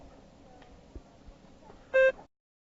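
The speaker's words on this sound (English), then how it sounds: "Begin to prepare your response after the beep." A single short electronic beep with a clean tone, loud and sudden after faint room hiss, then silence.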